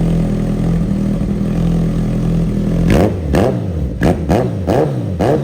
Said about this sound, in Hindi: आपने इस बाइक का साउंड टेस्ट सुना